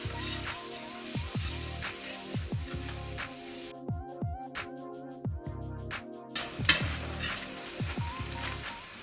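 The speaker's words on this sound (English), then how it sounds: "Onions are roasted for 5–10 minutes." Chopped onions sizzle steadily in hot sunflower oil in a large pot, loud and close, with rhythmic scraping stirs cutting through the crackle.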